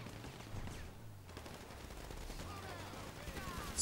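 Gunfire in GTA Online crackles in faint, rapid bursts at a distance, mixed with low game ambience and a murmur of voices.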